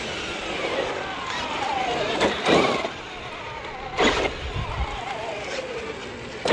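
A Traxxas X-Maxx 8S RC monster truck with a belt-drive WideMaxx kit, its electric motor whining up and down in short throttle blips, with a broad, steady drive-train hum underneath and a couple of sharper bursts.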